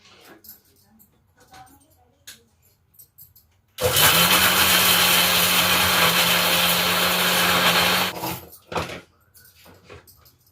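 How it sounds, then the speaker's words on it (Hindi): A kitchen mixer grinder runs in one loud, steady whir for about four seconds, grinding roasted, hand-crushed ingredients into a coarse powder for a sweet, with quieter handling clatter before and after. "अब मैं इसे थोड़ा मिक्सी में चलाऊंगी"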